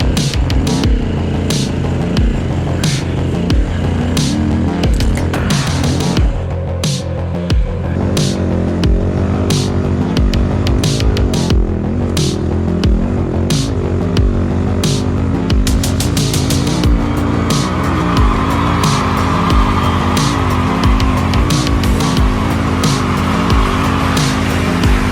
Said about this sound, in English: let's see who gets to the top of the hill first.